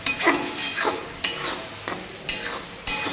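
Spicy chicken rassa sizzles in a pan while a spoon scrapes and stirs through it in several distinct strokes; close, crisp, with no voices.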